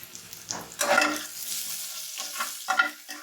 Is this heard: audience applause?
no